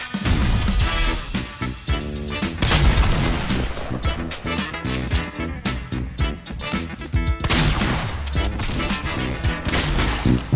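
Fortnite gameplay fills the clip with dense, loud bursts of gunfire and booming impacts, rapid overlapping shots and crashes layered over game music and effects, with no clear talking.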